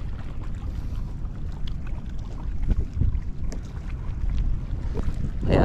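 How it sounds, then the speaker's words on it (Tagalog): Strong wind buffets the microphone on a fishing boat out on Taal volcano lake in Talisay, a continuous low rumbling roar that swells in gusts, with faint water and boat sounds. "at lumakas na naman ang hangin."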